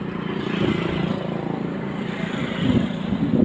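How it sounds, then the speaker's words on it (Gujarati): Road traffic runs near a roadside shop frying bhajiya, with a close, continuous engine rumble that swells toward the end as a vehicle passes by. "કાંઈ વાહનનો અવાજ તો બહુ એટલે બહુ આવશે"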